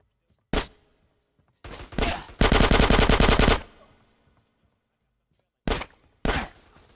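Gunfire in GTA San Andreas Definitive Edition during a corridor shootout at the Grove: a single loud shot, then a burst, then a long rapid automatic volley, and two more isolated loud shots after a pause.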